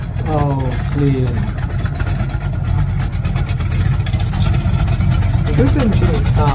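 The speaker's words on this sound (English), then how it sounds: "Good engine sound on this charger." A Dodge Charger muscle car, said to carry a V10 rather than a V8, runs loud and steady with a rumbling engine note throughout, close to the microphone, with brief voice-like sounds near the start and end.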